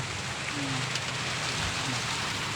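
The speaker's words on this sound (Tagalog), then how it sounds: "Maulan na siya." Steady rain falling outdoors, a continuous even hiss of drops throughout with no voices.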